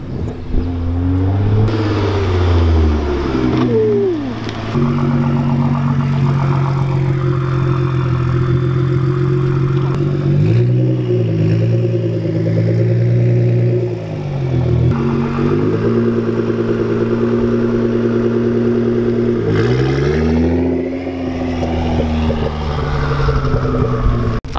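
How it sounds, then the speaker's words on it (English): A 2017 Nissan GT-R pulling up nearby, its engine idling with a deep, loud rumble broken by several rising-and-falling revs, each swelling and dropping back to a steady drone. "The second GTR just pulled up."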